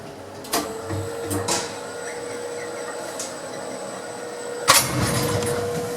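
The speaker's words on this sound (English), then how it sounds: "Quite a loud fan on this to keep the transistors and variable frequency drive cool." A Schindler 3300 lift's motor drive gives a steady mechanical hum, with a high-pitched whine from its variable frequency drive cooling fan throughout, punctuated by a few sharp clicks and clunks.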